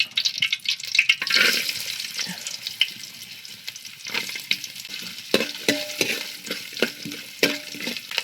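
Chopped coconut pieces fry in hot coconut oil in a pan, giving a scattered sizzle with stirring scrapes and clinks. It is fairly close and uneven, and there is no talk.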